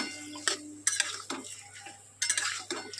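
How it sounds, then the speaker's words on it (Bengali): Mutton goes into a pan with spices and gets stirred, giving sharp intermittent clinks and scrapes of a spoon against the pan over a faint sizzle, close and with no talk. "এবার দেখুন আমি মাংসটা ঢেলে দেবো, দিয়ে আমি একটু নাড়াচাড়া দিয়ে কষিয়ে নেব।"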